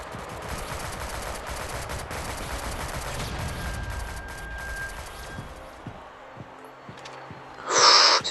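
Enemy gunfire in the shooter game Shadowgun Legends, with bursts of shots and impacts rolling over a busy game mix, then a sudden loud crack near the end.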